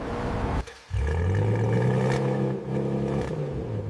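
A Chevrolet Camaro V8 engine revs with a loud, deep roar. It dips briefly near the start, then climbs and holds a steady growl with no talking over it.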